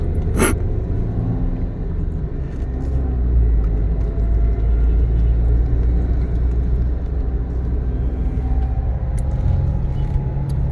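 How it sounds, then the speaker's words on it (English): Steady roar of heavy morning road traffic close by in Itahari, Nepal, engines rumbling continuously with a brief sharp hiss near the start. "Heavy morning traffic noticed at 10 a.m. in the morning in these regions."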